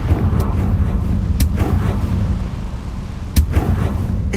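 Confringo blasting-spell explosions in the Hogwarts Legacy video game land as a few sharp, punchy booms over a constant low rumble.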